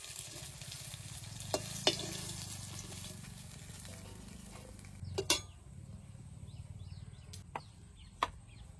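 River fish fry in oil in a village kitchen with a quiet, steady sizzle, broken by occasional sharp clinks of a spatula against the pan and a brief scrape as pieces are moved.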